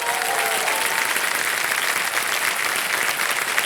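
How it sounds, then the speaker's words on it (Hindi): A studio audience on the Kaun Banega Crorepati quiz show applauds loudly and steadily throughout, a dense wash of clapping with a faint voice at the very start. "तालियां बज जाए इनके लिए।"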